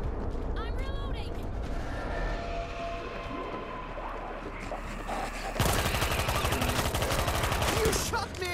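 Gunfire in a World War Z zombie battle in Marseille, scattered shots giving way to a loud, sustained volley of rapid automatic fire in the second half, with voices talking over the action.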